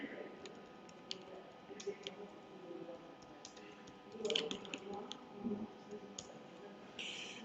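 Keys click on a small non-standard computer keyboard in bursts of quick, light taps, fairly quiet and close, with pauses between runs.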